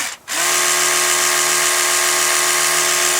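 Oral-B Smart Series 7000 electric toothbrush switching on after a brief silence, then a loud, steady high-pitched buzzing whine held evenly and close to the listener.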